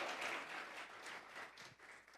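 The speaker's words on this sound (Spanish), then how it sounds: "Vamos a regalarle ofrenda de palmas al Dios de la..." A church congregation claps and applauds together during a Spanish-language sermon, a dense, continuous burst of hand claps that rises at the start and then slowly thins out.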